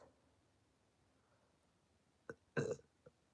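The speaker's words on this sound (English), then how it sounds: "Oh my god, I just burped on camera." A single quiet burp from a person doing makeup, a short faint throat click followed by a louder rough belch of about half a second, close to the mic in an otherwise quiet room.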